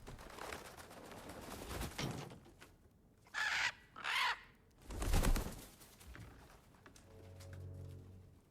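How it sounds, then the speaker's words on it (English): Crows in the God of War Ragnarök video game give two sharp, close caws in quick succession, followed by a burst of flapping wings, while low ambient game sounds and a fading tone continue underneath. "I see crows in the background"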